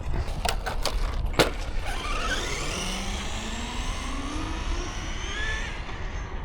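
An FMS Ford F100 RC truck with a swapped brushless motor whines past at speed, its pitch sweeping as it passes, following a few sharp clicks at the start.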